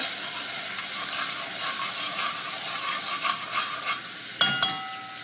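A spoon stirs tomato sauce into a pot of rice with pigeon peas for Puerto Rican arroz con gandules, a soft steady sizzle and wet swishing running throughout, ending with two sharp clinks of utensil against pot.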